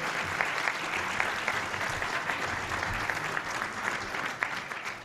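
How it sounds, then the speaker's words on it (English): A luncheon audience at the National Press Club applauds the day's speaker, steady dense clapping of a moderate-sized crowd heard alone at fairly close range. "How about a round of applause for our speaker today?"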